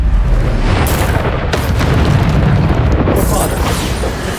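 Repeated Bombarda spell blasts in Hogwarts Legacy, deep booming bursts in a dense, continuous run of combat noise with several sharp impacts, loud and close throughout.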